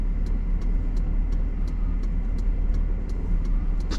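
A car rolls along a snowy road after a Christmas snowstorm, its engine a steady mid-range rumble with tire noise, close by and continuous, with no one talking.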